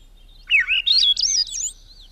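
A bird chirps in a bright, warbling run of close, clear notes that rise and fall for over a second, alone over a faint low hum.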